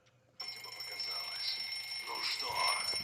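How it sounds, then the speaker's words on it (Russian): Alarm clock in the video game Метель starts ringing abruptly and keeps sounding as a steady electronic beeping tone, with a voice talking over it. "теперь просто заводим будильник"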